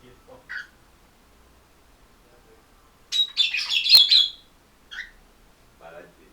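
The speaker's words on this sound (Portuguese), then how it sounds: "Eles reagem aos agudos do alarme do celular, aí o periquito fica tocando." Parakeets squawking indoors in reaction to a mobile phone alarm, a burst of shrill, scratchy chatter lasting about a second, with a few faint isolated chirps before and after in a quiet room.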